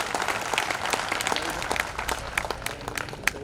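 An audience claps steadily for a poet at a 75th anniversary celebration of a Kshatriya education society, a dense, continuous patter of many hands filling the hall, with no talk over it.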